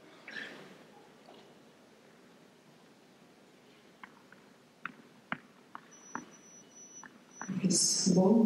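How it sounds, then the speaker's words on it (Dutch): High-pitched electronic beeps from phone text messages arriving in the stands at a women's tennis match in Zurich, a short train of faint, sharp bleeps spaced irregularly, then louder crowd noise at the end. "Allemaal sms'jes binnen bij iemand op de tribune. Wordt dat hoge gepiep."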